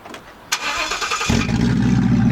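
A 5.0 V8 fires up through a Corsa Xtreme exhaust: after a brief crank, the engine catches into a loud, deep, rumbling idle that holds steady and close.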